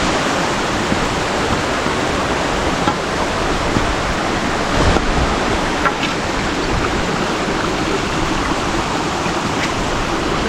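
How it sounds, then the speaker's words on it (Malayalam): Water flows over stones along a mountain trail to Agasthyarkoodam, a continuous rushing hiss like a small stream or cascade, steady and moderately loud with no talking. "കല്ല് വെള്ളം ഒഴുകി പോകുന്നത്."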